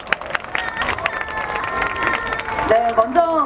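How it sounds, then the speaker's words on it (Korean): Audience applause and cheering at a K-pop festival stage in Seoul for a girl group, a dense crowd clatter with excited voices and a singing or shouting voice rising toward the end. "여러분 다시 한번 큰 박수 보내주시기 바랍니다."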